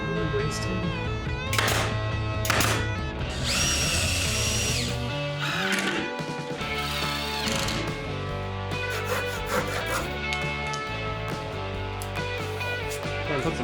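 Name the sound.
oscillating multi-tool cutting wood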